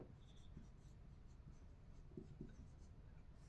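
A marker writes on a whiteboard during a Class 9 mathematics lesson, making faint scratchy squeaks and short strokes in a quiet room.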